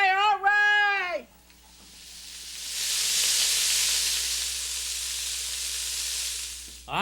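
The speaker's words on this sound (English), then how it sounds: "you turn that flame up real high to get the heat going and going and going and making lots of steam" A biryani pot over a high flame lets off a broad, steady hiss of steam that swells and holds for several seconds, following a brief spoken voice at the start.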